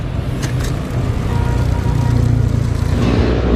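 A car rolls on a test drive just after a tire repair, its engine and road noise a steady, close drone that builds slightly toward the end, with no talking.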